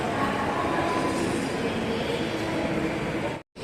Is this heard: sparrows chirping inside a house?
no